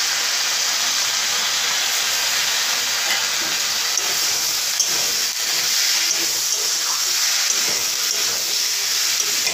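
Crab pieces cooking in a hot pan for a home-style crab curry, heard as a continuous, fairly loud hiss and sizzle with no talking.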